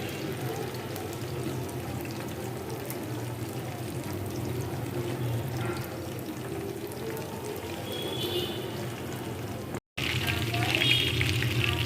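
Loitta (Bombay duck) fish pieces frying in a pan give a steady, close crackling sizzle throughout, with a brief dropout near the end before the sizzle returns brighter.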